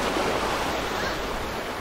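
Waves roll in on the Lake Michigan shore as a steady, broad rushing wash, loud and continuous with no breaks, heard on their own.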